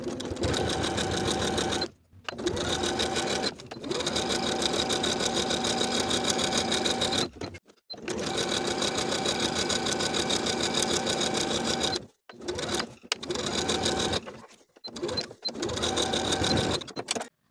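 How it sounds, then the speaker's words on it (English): A sewing machine runs in long steady bursts while top stitching a straight 5/8 inch seam down a Peter Pan collared blouse, with short pauses between runs and no talking. "we're going to sew straight down with a 5/8 inch seam allowance, top stitching to the bottom of the garment."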